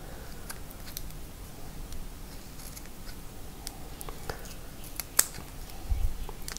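Soft, close snips of scissors trimming the edge of a cabochon, scattered small cuts against a quiet background with a couple of sharper clicks near the end.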